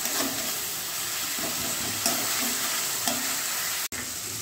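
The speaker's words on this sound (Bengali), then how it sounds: "মশলাটাকে কষিয়ে নেব।" Spice masala with turmeric and salt is stir-fried in a pan for paneer masala, a steady close sizzle with periodic scraping strokes of the spatula, and a sharp click near the end.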